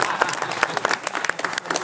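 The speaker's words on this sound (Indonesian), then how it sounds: "Tepuk tangan untuk Tarzan." Audience applause after a song, a brisk burst of many hands clapping with scattered sharp individual claps, close and lively throughout, with no talking over it.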